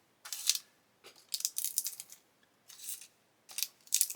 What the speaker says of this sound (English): What I'm going to do is cut these bags open